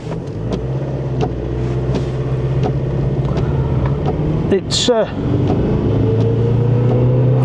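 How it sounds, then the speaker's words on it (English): A Suzuki Vitara with a 2-litre Peugeot PSA diesel engine labours uphill, a steady low engine drone under close road and wind noise, with someone talking briefly over it. "this is an opportunity to test the power of this 2-litre Peugeot PSA diesel engine"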